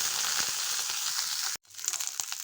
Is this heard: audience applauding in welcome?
no